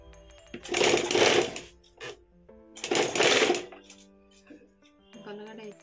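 Zigzag sewing machine stitching in short runs, two longer bursts of steady mechanical whirring separated by pauses, with a person talking over and between the stitching.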